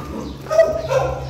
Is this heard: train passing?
no